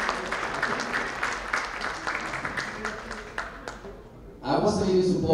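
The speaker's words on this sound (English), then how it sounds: "Let's give a bigger applause for those people that overpassed that disease." Audience applause for cancer survivors at a breast cancer charity fashion show, a steady broadband patter of clapping mixed with voices that swells louder near the end.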